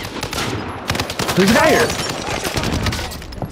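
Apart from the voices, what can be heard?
gunfire in a video game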